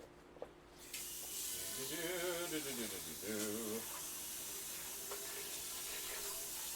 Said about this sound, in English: I just need to wash our pan, and then we can get to cooking.